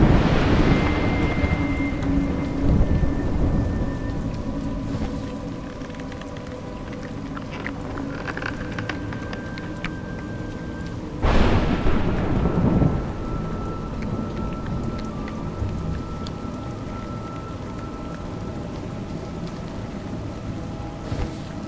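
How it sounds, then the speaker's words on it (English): Steady heavy rain pours in A Juggler's Tale, broken by a loud rolling thunderclap around the middle and fainter rumbles, with a few tonal game chimes over the downpour. "It's raining."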